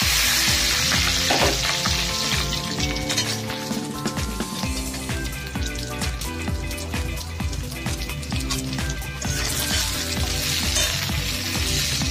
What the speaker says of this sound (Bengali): কড়াই তেল দিয়েছি, তেল গরম হয়ে গেছে, মাছের ডিমগুলো ভেজে নিচ্ছি।